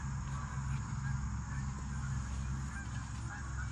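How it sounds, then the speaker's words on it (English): Geese honking repeatedly in a steady chorus during an outdoor potato harvest, loud and continuous with scattered calls layered over one another. "the geese are like, wow, it's just potatoes,"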